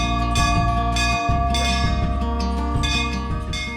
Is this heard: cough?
no